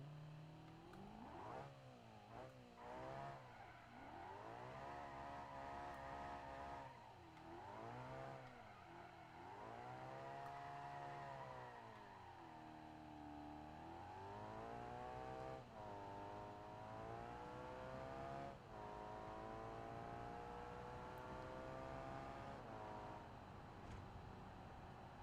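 A bright pink supercar in BeamNG revs hard through downtown Los Angeles streets, its engine note climbing and falling in long sweeping pitch glides as it accelerates, shifts and revs again, loud and continuous with no talk.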